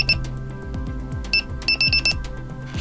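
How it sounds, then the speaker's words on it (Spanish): Morse code for the letter A, sounded as sharp electronic beeps: one short beep at the start, another later, then a quick cluster of several, all over a quieter repeating background tone pattern. "Imagínense que estos pitidos que están escuchando en realidad son golpes mecánicos."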